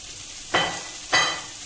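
Cabbage tossed into a wok of vegetables over a high flame for Hakka noodles, giving two loud bursts of sizzling stir-frying about half a second apart, each fading into a steady hiss.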